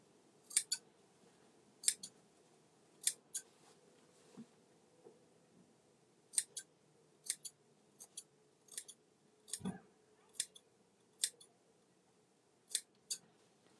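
Sharp scissors snip through fabric while trimming the side seams of a farmhouse apron, about a dozen crisp, separate cuts in uneven rhythm, close and clear in a quiet room.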